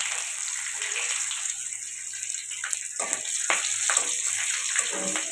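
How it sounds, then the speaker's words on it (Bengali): Black cumin, whole cumin and two slit green chillies hit hot oil left from frying rohu fish, giving a dense, steady sizzling hiss with brief crackling bursts. "এবার সেই তেলে দিয়ে দেব কালো জিরে গোটা জিরে আর দুটো চেরা লঙ্কা"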